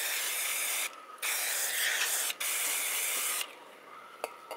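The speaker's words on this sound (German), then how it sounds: "Sprühe das hier mit Bremsenreiniger mal ein." Brake cleaner sprayed from an aerosol can onto the carburetor of a Honda Melody scooter found in a barn after years unused, a loud steady hiss in two long bursts with brief breaks, then a fading softer spray, close up.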